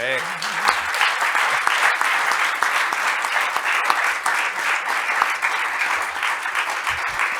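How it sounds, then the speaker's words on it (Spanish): Crowd applause at a talk about a skateboard hero, a sustained, dense roar of many hands clapping, loud and even, with a brief voice audible at the very start. "le damos un aplauso"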